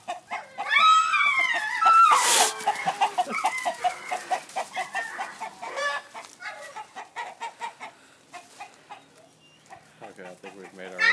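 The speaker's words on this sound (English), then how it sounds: "We're just getting all the neighbor dogs riled up here." Chickens cluck and a rooster calls at a farm while neighbor dogs bark in agitated bursts, fairly close, with a voice speaking briefly in the mix.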